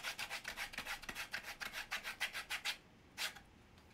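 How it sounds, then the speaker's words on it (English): A leather edge being sanded around an exterior curve, close rhythmic rasping strokes in a steady back-and-forth pattern, then a pause and one last stroke. "the way that you're meant to sand around an exterior curve like this is to bow in and then out"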